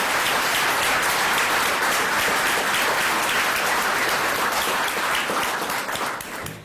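A large audience applauds continuously, dense clapping at steady volume that starts tapering off toward the end.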